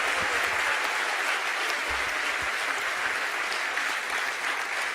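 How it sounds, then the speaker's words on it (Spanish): Loud, sustained applause from a large audience at a university honorary doctorate ceremony, dense clapping filling the room evenly throughout with no voice above it. "para el cual también pido un fuerte aplauso"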